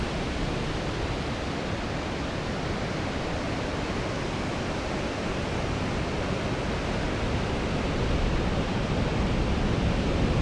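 Surf washes steadily onto the shore at Parry's Beach, a constant loud rush of broken waves with no clear individual breakers and no voices.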